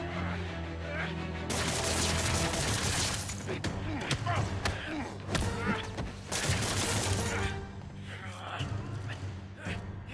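Chain gun fire in the game Spider-Man: The City That Never Sleeps, a dense, sustained rattling burst with crashes and impacts mixed in, while a voice talks over it.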